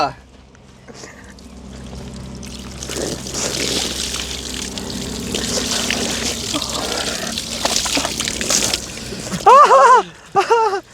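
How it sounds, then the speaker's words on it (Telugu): Ice cold water is poured for a chilled water bath after an eating challenge, a long rushing, splashing flow with sloshing that builds over several seconds, followed by loud shouting voices near the end. "నువ్వు చిల్డ్ వాటర్ బాత్ సార్."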